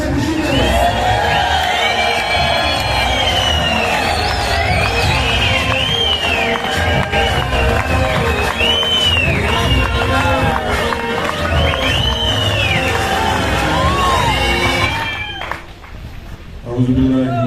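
A large crowd at a Pakistani Independence Day event in August 2021 cheers loudly, with piercing whistles and whoops rising over a continuous roar. The noise fades briefly near the end before surging back.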